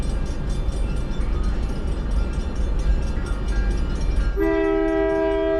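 A train rumbles past at close range with a steady heavy roar, then its horn sounds loud and sustained near the end.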